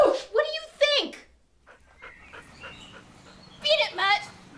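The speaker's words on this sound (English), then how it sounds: "There's a big dog digging up Grandma." A big dog whimpers in high, whining cries at the start and again near the end, with quieter scuffling noises between that could be digging.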